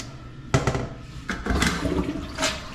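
A toilet in a newly built bathroom flushes with a loud rushing gush of water that swirls and drains in uneven surges, heard close up without talk.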